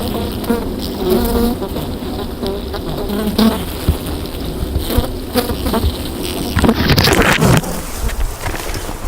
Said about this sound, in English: Bees out here